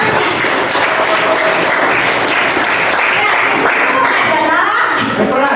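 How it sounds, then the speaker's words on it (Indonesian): Children in a classroom clap their hands together, a loud, continuous patter of many small hands with young voices chattering faintly underneath. "ini tepuk tangan dulu"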